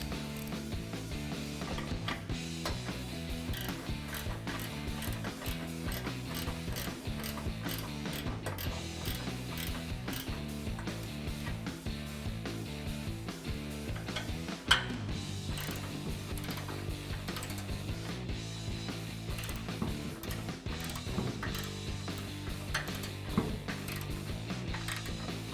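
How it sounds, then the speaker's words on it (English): A hand ratchet spins a 13mm socket to tighten a bolt while mounting a bull bar on a 2005-2015 Toyota Tacoma, giving a steady run of close, rapid clicking strokes with one sharper knock midway. "Then to tighten it in place, go ahead and use a 13mm socket."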